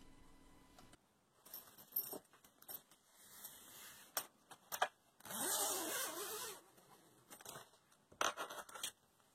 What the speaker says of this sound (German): Die überstehenden Enden der Reißverschlüsse schneide ich ab.